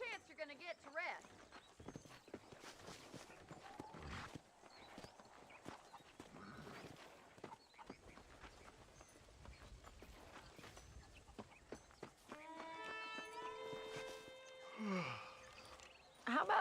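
A horse's hooves clip-clop at a walk in the Western video game Red Dead Redemption, a steady rhythm of soft knocks sitting under spoken dialogue, with a whinny and a short musical phrase near the end.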